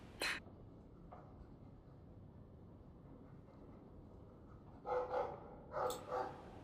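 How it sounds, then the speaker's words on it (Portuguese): A dog in the video game Dragon Age II barks in a few short bursts, one early and two paired near the end, set over a steady low ambient background. "Fenris, o que esse cachorro tá latindo aqui, Deus?"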